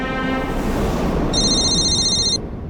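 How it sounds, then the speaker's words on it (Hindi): A telephone rings loudly and steadily in an indoor dramatic scene, its electronic ringtone sounding as a continuous tone that stops abruptly after about a second, with a low background bed underneath. "स्नेहा, वो अनिरुद्ध का फोन आया।"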